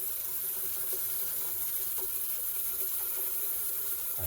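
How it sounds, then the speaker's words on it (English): Water draining from a sink after drain cleaner has been poured in, a steady broadband rush of flowing water close by, continuous and fairly loud throughout with no voices. "Oh, there goes the water."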